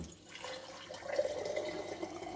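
Water runs steadily from a kitchen tap into a pot for cooking pasta, a continuous close splashing hiss with no talking.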